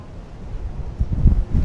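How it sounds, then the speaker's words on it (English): Gusty wind at Toronto's Harbourfront rumbles against the microphone, growing stronger and louder toward the end of the short stretch. "Oh, it's getting real windy here."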